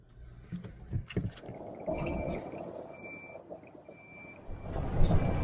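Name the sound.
electronic warning beeping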